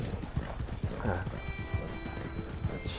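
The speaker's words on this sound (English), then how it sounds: "Sounds of the horses." Horse hooves clip-clop at a steady walking rhythm in the Red Dead Redemption 2 video game, close and clear, with faint ambient game sounds behind.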